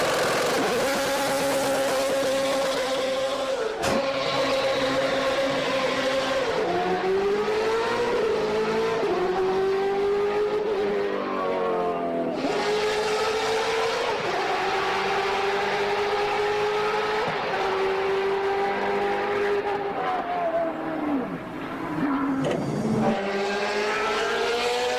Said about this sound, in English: My number 4 is the BMW E46 M3 GTR.